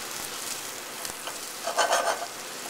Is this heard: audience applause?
no